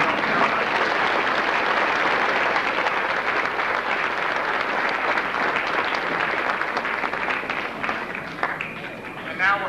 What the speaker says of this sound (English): Let's have a nice round of applause for our hardworking team.